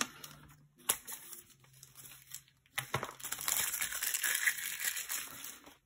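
A page of a Happy Planner paper planner being cut out, with scattered rustles and crinkling paper handling that swell into a dense, close run of crisp paper noise.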